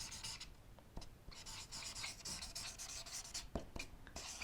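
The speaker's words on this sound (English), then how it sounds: "let's just write that down" A pen or pencil writes by hand on paper with a soft, continuous scratchy rasp broken by brief pauses and taps, close and quiet, with no talking.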